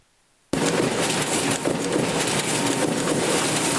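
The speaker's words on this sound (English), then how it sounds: "That's the sound of our presses running" Printing presses running: after a brief silence, a loud, dense mechanical roar starts abruptly and continues steadily with a rattling texture.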